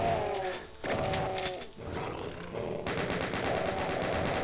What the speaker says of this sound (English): There's that chain gun.